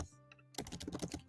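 Fast typing on a computer keyboard while values are entered into a React invoice generator form, a dense run of close, crisp key clicks after a brief quiet start.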